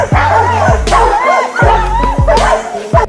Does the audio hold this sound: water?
no